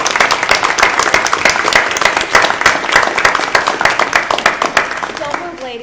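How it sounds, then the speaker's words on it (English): Loud, dense applause from a crowd, brisk clapping throughout that thins slightly toward the end. "How about a round of applause for all of our new"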